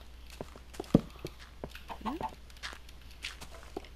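Chicken clucking in the Minecraft video game, a few short sparse clucks and soft footstep-like taps over quiet background, fairly faint and without speech.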